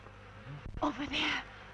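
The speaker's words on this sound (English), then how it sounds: "Insects." Insects buzz close by in a short burst, a droning whine that rises and swells for about a second over a faint background hum.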